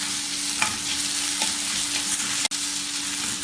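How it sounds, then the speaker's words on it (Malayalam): Chopped tomato sautéing with onion, ginger and garlic in a pan for dal tadka, giving a steady close sizzle with a few light scrapes from the stirring spoon. "ഇതിന് ഇളക്കി വഴറ്റാം."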